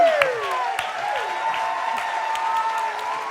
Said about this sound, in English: Please keep your applause going for our incredible improvising technical and camera team